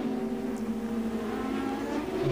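A 1987 Zakspeed Formula 1 car with its own German-built engine at Suzuka, a steady, sustained high-pitched engine drone with strong harmonics, moderately loud and continuous throughout, without speech.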